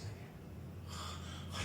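A voice imitates heavy, rapid panting, like someone gasping for breath while climbing a high mountain, with short breathy gasps and snorts close to the listener, and no other sound.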